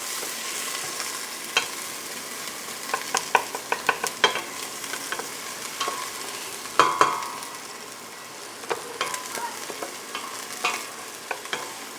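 Diced onions and garlic frying in hot coconut oil, a steady crackling sizzle with scattered sharp pops and spoon scrapes against the pan, fairly close and without voices.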